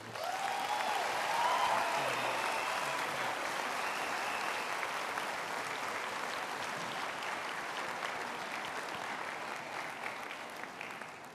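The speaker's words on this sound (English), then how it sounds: "Let's give all our loved ones a big round of applause." A large audience at a University of the Western Cape graduation ceremony gives a sustained round of applause, steady and even throughout and slowly fading, with a few cheers early on and no talk.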